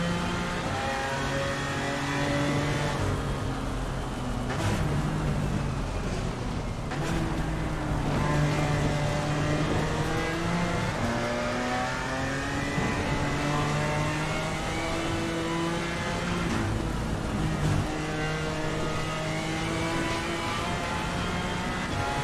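A GT4 race car engine in Assetto Corsa Competizione at Bathurst in the rain, a steady droning note rising and falling through gear changes, continuous and fairly close throughout with no talking.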